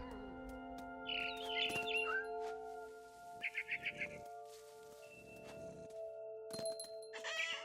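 Small bird calls from a barn swallow in What Remains of Edith Finch: bright chirps and trills in short bursts over a steady game ambience hum, with a few soft thumps, moderately close.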